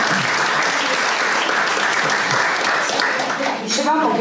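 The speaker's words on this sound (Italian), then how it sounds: "quindi un applauso al professor Maira." Loud, sustained applause from a crowd honoring a professor at an Italian book presentation, steady dense clapping filling the whole stretch and fading slightly near the end.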